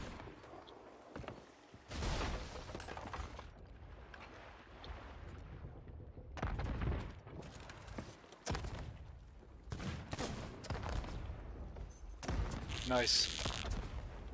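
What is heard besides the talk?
rifle gunfire in the video game Sea of Thieves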